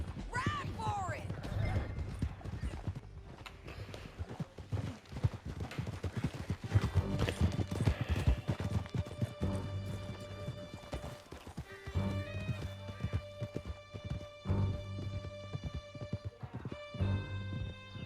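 Horses gallop in Red Dead Redemption II, with steady clip-clop hooves and a neigh, heard under a music score and in-game dialogue.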